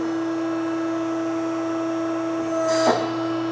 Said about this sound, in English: Now we're bringing the pressure die over.